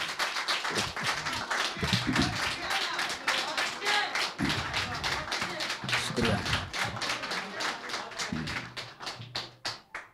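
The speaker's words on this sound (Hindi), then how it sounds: "आपने वक्त से पहले ताली बजा दी" Steady clapping from an audience at a Hindi poetry recitation, continuous and fairly even, with a voice speaking over it at times.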